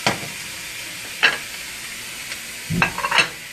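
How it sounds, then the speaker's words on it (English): Bok choy sautéing in a pan shows up as a soft, steady frying hiss, with two short bursts of stirring scrapes near the start and end. "Okay, so we're sauteing."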